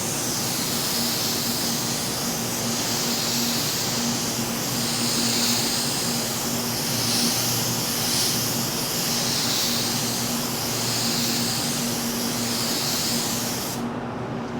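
A paint spray gun lays down quick coats in a steady, loud airy hiss that runs unbroken for about fourteen seconds with a gentle pulsing swell, then cuts off abruptly near the end.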